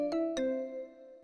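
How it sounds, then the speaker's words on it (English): A custom doorbell chime from an On-Q Unity home system plays two quick ringing tones that fade out, clear and alone. "I use custom door chimes and messages that I record to play when visitors ring the doorbell."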